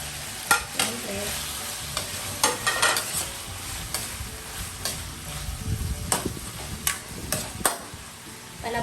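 Chopped tomatoes sauté and sizzle steadily in a hot pan for a Filipino mussel dish with kamias, with frequent stirring scrapes and clinks throughout and no talking.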